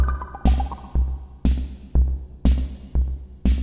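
Drum layer of the Soundpaint Brown Auto-Vari 64 instrument, a vintage rhythm-box pattern with punchy kick hits landing every half second and brighter snare-like cracks on alternating beats, close and dry.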